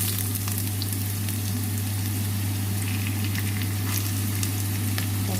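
Onion drops into a hot, lightly smoking pan and fries with a loud, steady sizzle and crackle under a constant low hum, close by and without talk.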